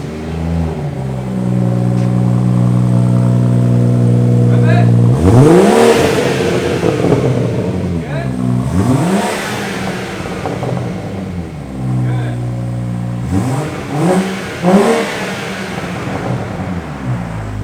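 A BMW B58-engined F30 with a muffler-deleted exhaust and 4-inch tips idles with a steady low drone, then revs sharply twice, each loud burst climbing and falling back to idle, heard near and alone.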